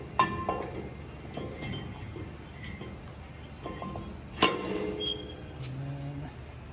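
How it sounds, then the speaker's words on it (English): A brake rotor being fitted back onto the hub of a 2002 Ford F-350 during hub seal work, with a few light metallic clinks and knocks in a quiet shop. "Now we can put the rotor back on."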